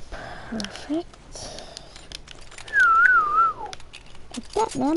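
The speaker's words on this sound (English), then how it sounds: "I'm trying to learn how to whistle." A person learning to whistle produces a few wavering, breathy whistled notes, one longer sliding tone in the middle, mixed with airy breaths and soft mouth noises.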